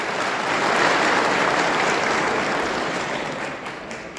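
An audience at a victory rally breaks into loud, dense applause, the clapping sustained and even before easing slightly toward the end, with no voices over it.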